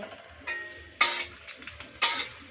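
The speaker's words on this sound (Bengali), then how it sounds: "তেল দিছি, রামের জন্য ভোগ রান্না করতেছি।" Khichuri bhog fries in oil in a pot while being stirred, giving a soft, steady sizzle with a few sharp scraping and clinking strokes of the spoon roughly once a second.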